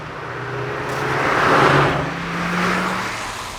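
A Honda Civic Type R EP3 with its 2-litre i-VTEC engine being driven: steady, loud engine and road drone that swells and eases twice, heard from inside or close by, with no voices.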